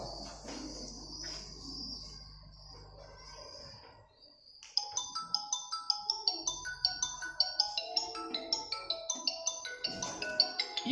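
Mobile phone inside a polythene cover ringing with a rapid chiming melody of repeated bright tones, starting suddenly after a quieter stretch of faint room noise and continuing steadily, near and clear.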